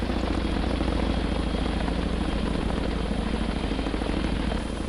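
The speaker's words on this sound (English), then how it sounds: "Pilot made it out. Another chopper came." Helicopter arriving in the Harekat 2 video game, a loud, constant rotor thump and engine roar with no pauses.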